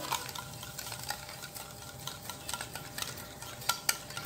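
Tres leches cake batter with sugar is beaten by hand in a bowl, giving a close, fast, rhythmic whisking and scraping with occasional sharper clicks, without any talk.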